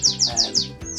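Canaries in an indoor bird room chirp in a quick series of bright, descending whistled notes, about five loud calls close together, with no voices.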